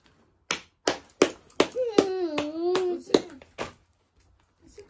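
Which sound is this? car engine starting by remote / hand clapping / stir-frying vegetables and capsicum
hand clapping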